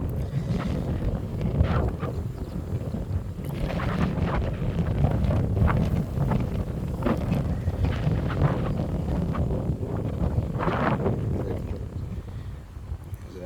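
Strong wind buffets and roars across the microphone steadily, with gusty surges throughout.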